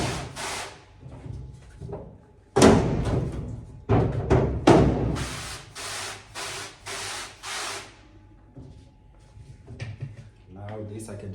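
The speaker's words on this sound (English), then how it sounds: "So now I need to spray" Pump spray bottle misting liquid onto a screen printing screen during screen reclaiming, several rhythmic hissing bursts in a row, close and fairly loud, with handling noises around them.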